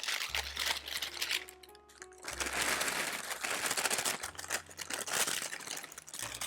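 Paper crinkles and rustles as it is handled during mushroom soup preparation in a kitchen, a close, intermittent crackling with soft low hum beneath and no talking.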